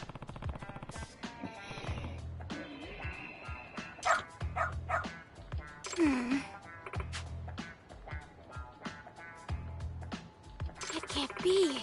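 A dog in Lost Judgment barks repeatedly, loud and close, alongside voices and game sounds, with barks recurring in bursts throughout.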